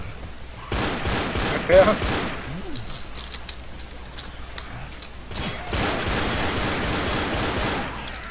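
Hunting rifle fire in Left 4 Dead, with sharp gunshot bursts near the start and a denser stretch of shots toward the end over game ambience, while a voice speaks briefly.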